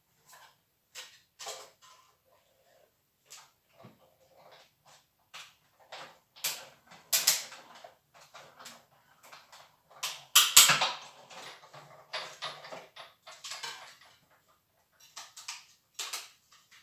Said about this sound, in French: je passe ça dans la machine